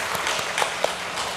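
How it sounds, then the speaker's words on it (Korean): Brief burst of applause from a church congregation at a Sunday worship service, dense clapping with a few sharper claps standing out, lasting just over a second. "박수 주세요."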